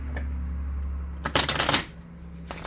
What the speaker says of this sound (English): Let me give you a few shuffles.